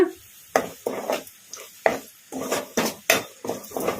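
A spoon scrapes and clatters in a pan as green chillies and curry leaves are stirred into frying chicken and onions, making a series of about a dozen rhythmic, close metallic strokes with short pauses between them.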